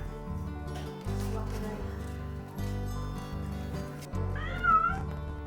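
A cat meows near the end over a steady low rhythmic background, with faint voices present; the meow rises and falls clearly.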